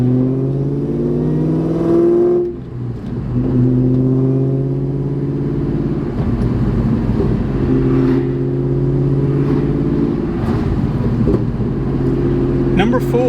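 A Sonic Blue Mustang Terminator fitted with Kooks long tube headers rumbles steadily and loudly, with a deep, throaty exhaust note that dips briefly and then swells again in short revs.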